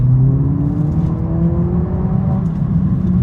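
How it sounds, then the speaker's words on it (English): Mercedes-Benz A45 S hot hatch with its exhaust opened up, a deep, steady engine drone that climbs slowly in pitch as the car accelerates, loud and close, with no talking. "changes the exhaust now, so you can hear more of the exhaust"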